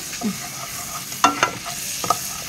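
Whole black peppercorns drop into a hot pan of cucumber soup base, bringing a steady low sizzle broken by a few sharp crackles and pops.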